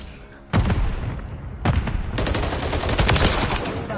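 Dense gunfire in a Call of Duty match, bursts of rapid automatic shots starting sharply, pausing briefly, then resuming louder as sustained overlapping fire with heavy booming reports.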